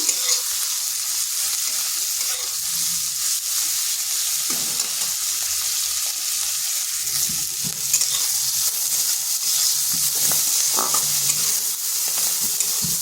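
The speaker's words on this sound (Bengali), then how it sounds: "মাছটাকে ভালোভাবে ভেজে নিচ্ছি" Shrimp frying in a pan with turmeric and salt, a loud continuous sizzle close up, broken by scraping and stirring of the spatula.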